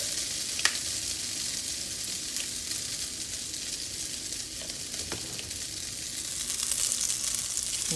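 Pasta with garlic and mushrooms tossed in a hot frying pan, a steady close sizzle with occasional light clinks and scrapes of stirring, no talking.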